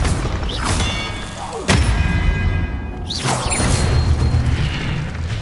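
An Expelliarmus spell in a video game is cast: whooshing sweeps and a sudden heavy boom with mechanical thuds, followed by another rushing burst, loud and close with no talk.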